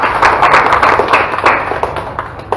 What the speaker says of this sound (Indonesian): Mohon tepuk tangan Pak Anies.